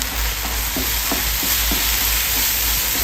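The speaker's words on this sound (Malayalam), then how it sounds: "ഒരു ടീസ്പൂൺ മുളക് പൊടി കാശ്മീരി മുളക് പൊടിയാണേ ഒന്ന് മിക്സ് ചെയ്യണം" Kashmiri chili powder being mixed into a squid filling in a hot pan, loud steady sizzling with regular spoon scrapes about every third of a second and a low hum underneath.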